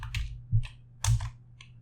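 Four quick key presses on a computer keyboard as the exit command is typed, crisp close clicks with low thumps, unevenly spaced over under two seconds, with no talk.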